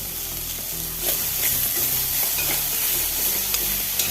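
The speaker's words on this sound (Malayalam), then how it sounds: "ഇനി അരിഞ്ഞ് വെച്ച കോവക്ക ചേർത്ത് കൊടുക്കാം നല്ലപോലെ ഒന്ന് മിക്സ് ചെയ്യാം" Chopped ivy gourd sizzles steadily in a hot pan while a spatula stirs and scrapes through it in repeated strokes, close and loud, with no talking.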